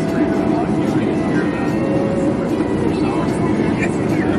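Inside a small airplane on final approach with flaps and gear down near Maui, a steady cabin engine and wind roar fills the clip beneath talk.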